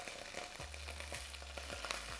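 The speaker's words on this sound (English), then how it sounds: "Ooh, you need to really fry that tomato paste so you can remove that raw tomato paste flavor." Tomato paste frying in a tablespoon of unsalted butter in a skillet, with a faint, steady sizzle and crackle running under a low tonal hum, quiet and close with no voices.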